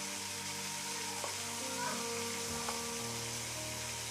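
Food sautéing in a hot pan for a cucumber dish gives a steady, even sizzle with soft stirring scrapes, alone and with no talking.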